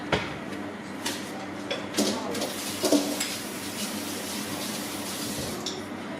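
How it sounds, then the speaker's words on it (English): A wooden spoon stirs carrot cake muffin batter with vanilla in a bowl, giving soft scraping and a few light knocks against the sides over a faint background hiss. "And you are just going to wooden spoon that."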